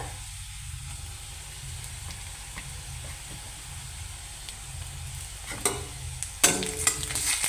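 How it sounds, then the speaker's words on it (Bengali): Ginger-garlic paste frying with chopped onion in a pan: a steady close sizzle and hiss, with louder stirring scrapes and clatter toward the end and no talk. "আদা রসুন খানিকক্ষণ ভেজে নেব।"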